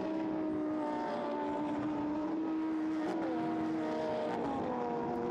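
A Lamborghini Super Trofeo race car engine drones steadily at a distance down a straight at Silverstone. The pitch shifts slightly as the car passes, with other engine tones layered faintly behind it.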